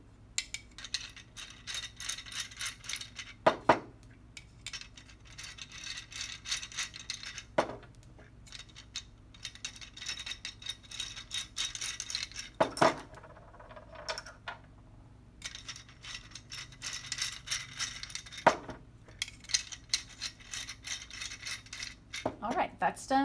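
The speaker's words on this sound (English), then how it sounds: "Now we're going to thread our metal perches into the hub assembly through the shroud." Metal perches are screwed into the hub of a Wild Birds Unlimited Eliminator squirrel-proof bird feeder, making light metallic clicks and ratcheting scrapes at intervals, with sharper clinks every few seconds over a quiet background.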